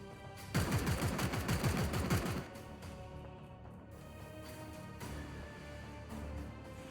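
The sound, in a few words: gunfire from a video game, Warhammer 40k Chaos Gate: Daemonhunters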